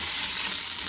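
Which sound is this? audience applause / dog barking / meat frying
meat frying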